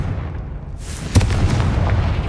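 A Confringo fire spell in Hogwarts Legacy bursts with a sharp, loud explosive crack followed by a rumbling, fading blast over low background ambience.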